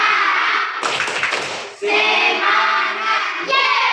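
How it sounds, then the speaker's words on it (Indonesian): Schoolchildren in an Indonesian classroom perform the 'tepuk semangat' spirit clap, a burst of loud, quick rhythmic hand claps mixed with children's voices chanting together. "Tepuk semangat."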